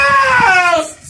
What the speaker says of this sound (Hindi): ये बकरा चिल्ला रहा है भाई बहुत खतरनाक तरीन से